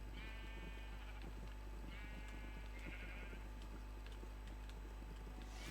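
Several sheep bleat in a video game, a few short calls spread across the stretch over a steady low background hum, with no talk.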